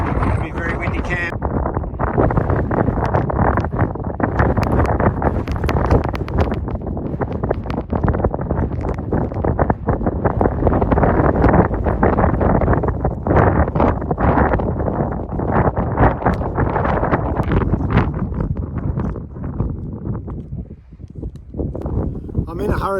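Strong wind buffets the microphone at a camp near Precipitous Bluff on the Southern Ranges circuit, a loud, steady, broadband roar that fills the whole stretch with brief surges and no clear pause.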